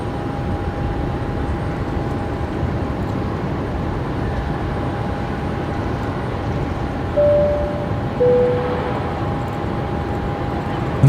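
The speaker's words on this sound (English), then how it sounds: "This is Jetstar 824 coming in from Sydney tonight here on runway left." A Jetstar Airbus A320, flight 824 from Sydney, lands at night on a Brisbane Airport runway, heard as a steady, loud, broad roar with a sustained tonal hum and a couple of brief rising surges toward the end.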